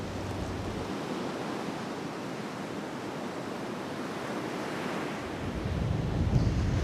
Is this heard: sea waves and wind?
yes